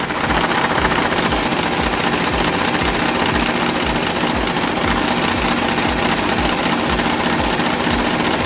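A sewing machine runs a knit stitch steadily through stretch fabric for a turban hat, a fast, even mechanical rhythm, its needle thumping repeatedly over a constant motor whir.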